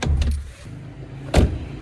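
The hood of a Mercedes W124 undergoing restoration is released, with a dull mechanical clunk and rattle, a pause, then a sharper latch thud, close by with no talk.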